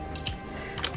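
Mechanical keyboard keys on an Ajazz X Nacodex K685T pressed a couple of times, producing faint, brief clicky taps at close range with no talking.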